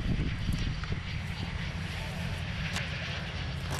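A Pilatus PC-21 turboprop trainer flies at the RIAT 2006 airshow, its engine a continuous roaring drone heard at a distance, with a commentator talking over it.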